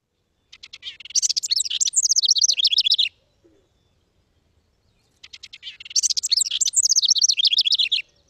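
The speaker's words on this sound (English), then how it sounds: "Let's listen to the house wren first." House wren song: two long, bubbling, chattering bursts of rapid high notes from a tiny songbird, each about two seconds, separated by a short silence, clear and alone.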